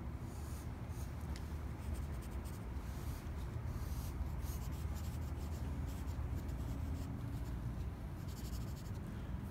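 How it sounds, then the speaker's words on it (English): Charcoal pencil scratching steadily across paper while a life portrait is drawn, a continuous close, fairly quiet scraping texture with no talk. "go a little bit more specific with this charcoal pencil"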